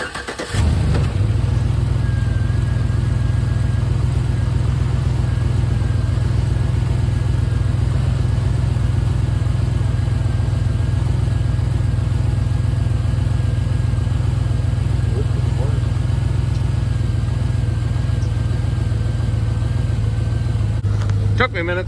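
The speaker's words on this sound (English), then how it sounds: "I'm going to start the truck." A GMC Yukon truck engine cranks and starts, then idles with a steady loud rumble throughout.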